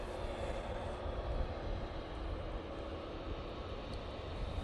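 A Ryanair Boeing 737-800 at Manchester Airport gives a steady, distant jet roar that holds at an even level throughout, with no voices.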